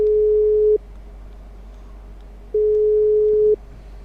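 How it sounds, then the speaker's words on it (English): An outgoing phone call rings on the line with a steady electronic tone, two long beeps separated by a pause, clear and alone over a low hum. "I don't know if you can hear that noise ringing, but we are ringing him."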